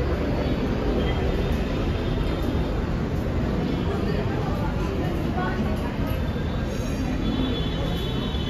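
An LRT train rumbles into a station in Manila, a steady, loud rolling roar with faint screeching wheels, heard close by and continuous throughout.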